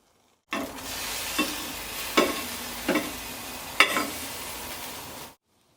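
Ground beef smash burger patties sizzle loudly on a pellet grill griddle in a steady hiss, punctuated by a few sharp scraping clicks, then stop abruptly.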